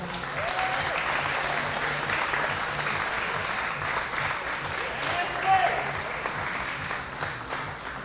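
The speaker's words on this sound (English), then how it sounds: "Give them all a round of applause." Sustained applause from a crowd at a state lead climbing championship finals, honoring volunteers, judges, route setters and climbers, steady and dense throughout with some crowd murmur mixed in.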